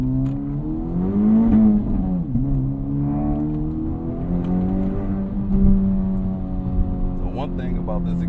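Acura Integra Type S fitted with a Milltek catback exhaust driving with a cold engine, giving a steady droning exhaust note that rises and falls with throttle under ongoing talk inside the car.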